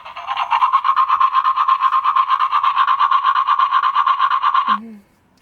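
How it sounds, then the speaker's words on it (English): Electronic scrubbing sound effect from a vintage 1997 Dentist Barbie doll toy, a loud rapid buzzing brush rhythm running about four seconds before cutting off with a short tone. "And then brushing again."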